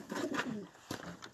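Pigeons in a loft coo in soft, low, throaty bursts nearby, a rolling call followed by a shorter one after a pause.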